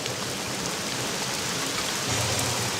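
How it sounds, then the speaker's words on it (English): Steady, dense rain falling in Caesar IV, a constant hiss of drops on surfaces with a faint low rumble underneath, no voices. "And as the rain falls in Argos"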